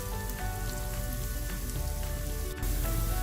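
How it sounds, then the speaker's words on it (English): Onions browning in a pan for a beef shank korma, a steady close sizzle and crackle of frying with scattered pops and a brief clatter near the end, no talking. "Let's go back to our onions. I'm going to brown this up nicely."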